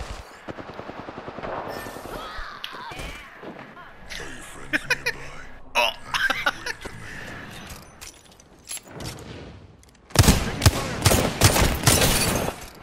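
Apex Legends gunfire crackles in bursts, with scattered shots early on and a dense, loud volley near the end, while players talk excitedly over much of the action.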